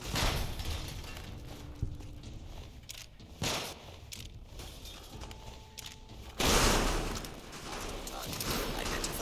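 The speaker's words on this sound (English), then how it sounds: "Energy weapons are crazy high damage. Firing weapon." Energy weapon fire in Fallout: New Vegas: a few sharp broadband blasts that punch through a busy game soundscape, with a heavy sustained burst near the end.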